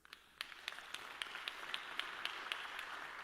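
An audience in a talk hall claps briefly for Duke University, a quiet patter of many hands with sharp individual claps, steady and somewhat distant, no voices over it.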